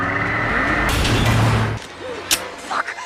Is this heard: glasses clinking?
no